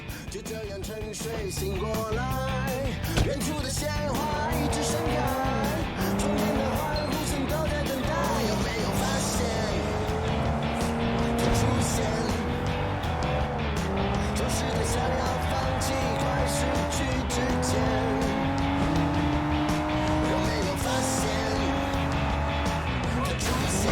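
Car skidding with tires squealing in the Sleeping Dogs video game, long drawn-out wavering screeches over a revving engine, loud and continuous for the whole stretch, with voices shouting over it.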